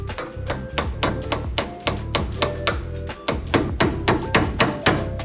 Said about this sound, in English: This tie rod's still got a piece of the old cotter pin stuck in the middle, so I'm gonna try to knock this out with a screwdriver right quick.